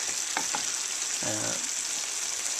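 Corn maque choux cooks down in a pan with a steady, constant sizzle, and a few brief stirring scrapes come through over the frying hiss.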